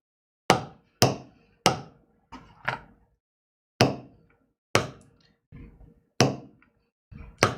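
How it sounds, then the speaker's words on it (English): Sharp, resonant hammer strikes drive stamping tools into leather during geometric and mandala tooling, about a dozen close, loud blows in an uneven rhythm with brief pauses, plus a few softer taps between them. "It's like dueling hammers."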